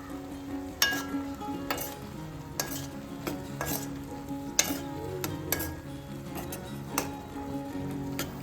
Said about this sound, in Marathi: छान एकजीव होईपर्यंत परतून घ्यायचं आणि गॅस कमी पॉवरवर ठेवून शिजू द्यायचं